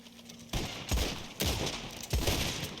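Video-game gunfire from a gun that fires dull and flat, as if dirty: three or four close shots in quick succession, each a broadband crack with a short low thump, fairly loud and with no talk.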